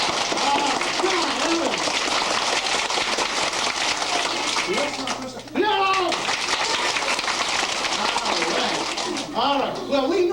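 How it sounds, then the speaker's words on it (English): Children's applause at a summer reading event at a small-town Ohio library in 1990, a noisy wash of clapping mixed with excited shouting and young voices calling out throughout. "Well, we normally call that applause."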